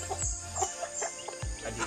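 A tethered mother hen on a rural farm clucks in short, soft bursts spread through the clip, moderately close against a quiet outdoor background.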